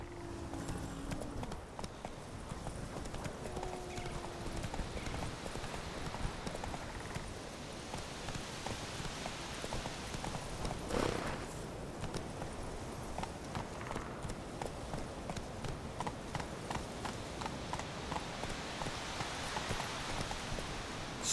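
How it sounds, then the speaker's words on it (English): Horse hooves clip-clopping steadily in the video game The Witcher 3, a continuous mid-level rhythm of hoofbeats with a faint rain-like patter in the background. "Whoa there, Roach"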